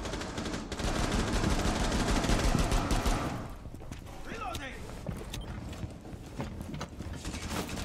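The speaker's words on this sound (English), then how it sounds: "You're shooting at the window." Rapid bursts of gunfire in Rainbow Six Siege, fired at a window during a tense round, crackle loudly for a few seconds before falling to scattered, quieter shots and game noise.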